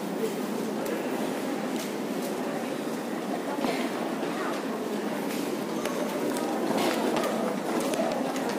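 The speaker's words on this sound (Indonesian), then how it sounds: "Ini keretanya teman-teman," The steady rumble of an Indonesian-made (INKA) airport electric train at Soekarno-Hatta running, a continuous roar with rattling and faint clatter, as heard from inside a carriage with some voices under it.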